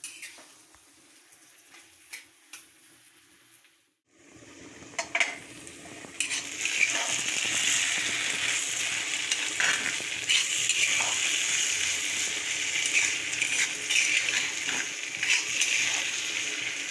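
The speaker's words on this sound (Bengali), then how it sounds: "এখন রুই মাছের ডিমটা রান্না করে নিব।" Rohu fish roe fries in a pan with a loud, steady sizzle that starts abruptly and continues, joined by a utensil stirring and scraping against the pan, close and with no talking.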